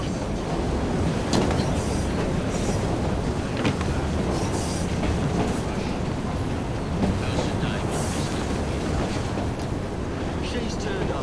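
A moving train rumbles in Assassin's Creed: Syndicate, a continuous loud clatter of wheels and carriages with scattered sharp clanks, while people talk over it.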